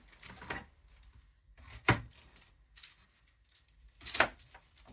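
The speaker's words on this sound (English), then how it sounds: "so I'm going to chop half an onion" Half an onion is chopped with a knife on a board, a few sparse, separate cuts with quiet pauses between, the sharpest two landing about two seconds apart.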